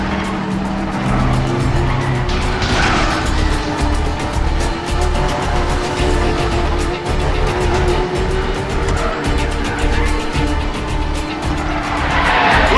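A car in the video game Medal of Honor: Warfighter roars through a city escape, its engine droning loudly throughout with repeated tire squeals and skids, dense and continuous with no voices over it.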